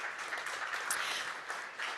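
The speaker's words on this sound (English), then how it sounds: "a big round of applause for our amazing first round of panelists" Audience applause at a university venture demo day, honoring a round of startup panelists: a steady, dense wash of clapping from a crowd, continuous and fairly loud for the whole stretch with no talking over it.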